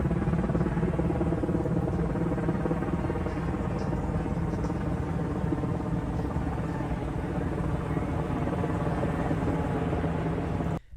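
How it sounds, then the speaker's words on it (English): A Black Hawk helicopter passes overhead in the Portland area, its steady rotor thump and engine drone loud and continuous for the whole stretch, fading only at the very end. "that is a Black Hawk helicopter"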